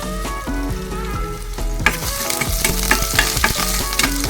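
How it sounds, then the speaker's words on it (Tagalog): Garlic sizzling loudly in hot oil in a wok, a steady close frying hiss with a spatula scraping and tapping the pan in quick strokes, alongside a tonal hum and no talking. "Mainit na ating kawali guys. Lagay natin ang ating bawang."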